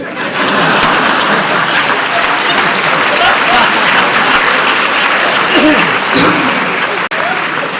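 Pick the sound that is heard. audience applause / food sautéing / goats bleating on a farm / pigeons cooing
audience applause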